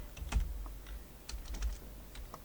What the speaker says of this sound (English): Apparently my typing could use some help.